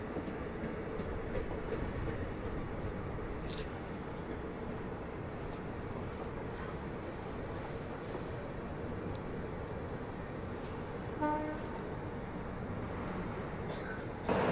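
A train of blue ICF coaches rumbles steadily past at close range, with a continuous clatter of wheels on rail and brief metallic squeals near the end.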